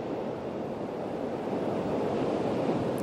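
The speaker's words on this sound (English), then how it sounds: "We'll watch for this next wave to come in." Steady rushing surf as a wave washes in at Devils Punchbowl in Newport, Oregon, a broad continuous roar with some wind noise on the microphone.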